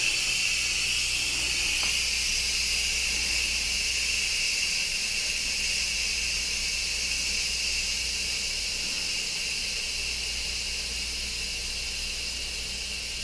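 Steady, loud hissing of escaping steam runs unbroken throughout, with a constant low hum beneath it and no voices.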